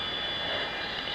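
Avro Vulcan bomber's jet engines running steadily at power before takeoff, a loud continuous roar and whine with no break, heard close up.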